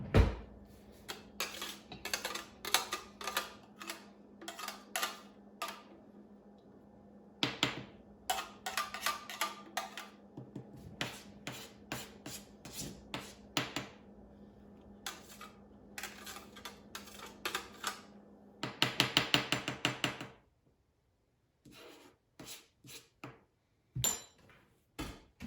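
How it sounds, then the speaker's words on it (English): A utensil scrapes fresh orange zest off a metal grater for drop cookies, making rapid, close clicking and scratching taps in uneven runs with short pauses, a dense flurry near the end, then a few scattered taps. "you're just gonna wanna scrape all of the orange out of your grater"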